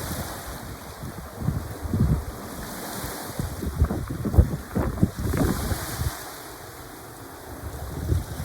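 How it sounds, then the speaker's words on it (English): Strong north wind blowing over a bay beside a wharf, with surf washing against the shore in a steady roaring rush that swells and eases over several seconds, no talking. "The wind from the north has been blowing the water out of the bay"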